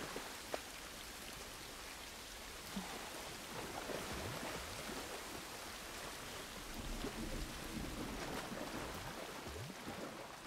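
Steady rain pours and patters on surfaces in a post-apocalyptic city in The Last of Us, a dense, continuous wash with soft distant thunder rumbling beneath, no voices over it.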